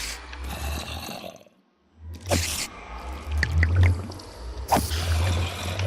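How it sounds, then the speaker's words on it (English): Minecraft brewing stand finishing a water breathing potion: short bubbling, gurgling bursts with a soft pop, repeated twice amid low rumbling game ambience. "That sound was the potion getting finished"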